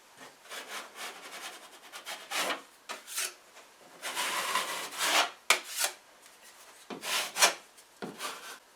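Drywall mud is scraped off a wall surface with a trowel or knife, a series of rough rasping strokes, some short and some longer, close and fairly quiet with no talk.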